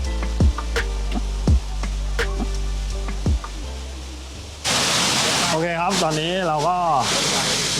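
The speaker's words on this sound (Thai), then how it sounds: "ถึงจุดหมายปลายทางของเราแล้วนะครับนั่นก็คือน้ำตกไซโยกน้อยนะครับ" Sai Yok Noi waterfall in Kanchanaburi, Thailand, its steady rushing roar rising loud partway through, with someone talking over it.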